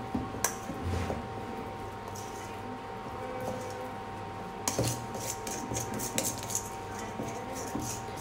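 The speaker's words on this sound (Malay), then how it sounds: "Kita uli sampai jadi dough lah" Keto kuih dough made without flour or sugar is kneaded with a metal spoon in a bowl, giving soft, irregular scraping and clinking taps at close range, busier in the second half, with no talk.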